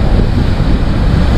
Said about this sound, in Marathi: खवळलेला समुद्र.